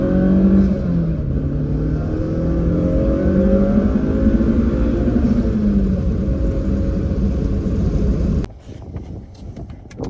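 A Honda S2000 fitted with a Civic Type R engine on a track accelerates hard, its engine note climbing in rising sweeps through gear changes. The loud, close drone cuts off abruptly near the end.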